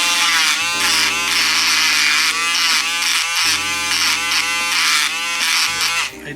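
Power tool sanding a resin model car kit of a Ferrari 488, a steady loud high whine with tonal harmonics, its pitch shifting as the load changes and dipping briefly twice.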